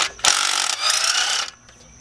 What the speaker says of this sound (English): I'm gonna take all 4 of the spark plugs out actually